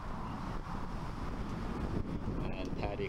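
Breezy, sunny wind at an outdoor cricket match gusts steadily against the microphone as a low, continuous rumble, with commentary spoken over it throughout.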